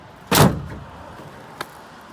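A repaired, once broken and rusty truck tailgate swings shut with a single loud slam, followed by a brief decay and a small faint knock about a second later.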